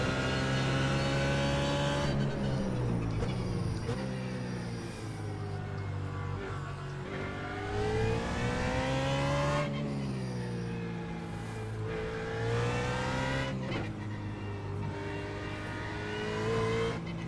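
BMW GT3 race car lapping Twin Ring Motegi East in the iRacing simulator, its engine steadily rising and falling through gear changes, with repeated upshifts and downshifts, loud and continuous throughout.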